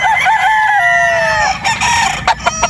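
A possum gamefowl broodstag rooster crows loudly and close by, one long drawn-out call that fills most of the moment, followed by brief rustling and clucking with no voices.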